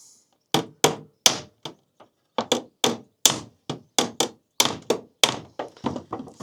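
A hammer strikes the wood of a wood-and-canvas canoe with a metal piece held behind as an anvil: about eighteen crisp, steady, evenly paced blows, close and clear, with no talking.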